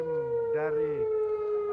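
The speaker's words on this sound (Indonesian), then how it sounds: "Tinggal nanti mau dikirim ke kota mana, baru sirine kota itu yang bunyi." A city air-raid siren warning of an incoming missile holds a steady, slightly falling wail, heard from a distance at moderate loudness.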